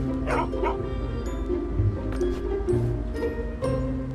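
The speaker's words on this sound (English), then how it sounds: "out sprang two large but friendly dogs." Two large, friendly dogs bark and yip in a close burst of several woofs with a brief whimper, over a steady low background hum.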